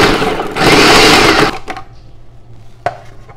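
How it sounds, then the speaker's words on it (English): A food processor pulses chopped chowder ingredients such as carrot and bacon, a loud, close whirring chop for about a second and a half, then stops, leaving a few light clicks and knocks. "So I'm going to pulse this and get this going."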